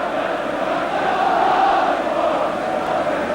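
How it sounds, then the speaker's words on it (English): Barnsley football supporters sing at a 1981 Division Two derby against Rotherham United, a broad, steady roar of distant crowd voices filling a stadium, continuous and fairly loud. "Well, you can hear the crowd singing."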